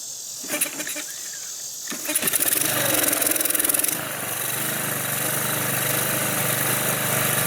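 A used pressure washer with automatic choke is pull-started, its small engine sputtering and catching after a couple of tugs, then settling into a loud, steady buzzing run close by.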